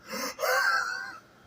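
A voice imitates heavy breathing, with a sharp gasp-like inhale followed by a longer strained, wheezy exhale, close and alone.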